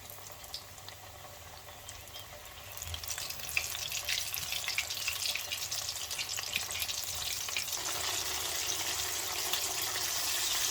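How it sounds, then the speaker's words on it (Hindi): Breaded chicken pieces for a zinger burger deep-frying in medium-hot oil: a continuous crackling sizzle that swells louder after a few seconds and holds steady, with no talking. "तो अब इसको हम फ्राई करते हैं। तो इसको ऑयल में डाल देंगे पीस को।"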